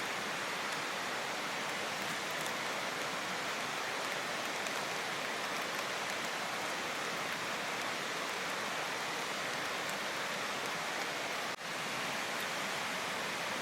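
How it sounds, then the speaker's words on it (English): Steady rain falls on a tent during a hike, heard from inside as an even, constant hiss at moderate loudness with no talk. "I was passing time, listening to the rain."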